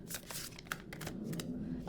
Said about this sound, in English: the cards are keep like stopping when I'm shuffling